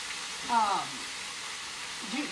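Ham frying in a pot gives a steady, soft sizzle throughout, with a voice talking briefly over it.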